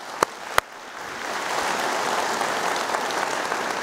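A church audience breaks into sustained applause after two brief sharp claps, the clapping swelling into a steady, dense wash that holds to the end.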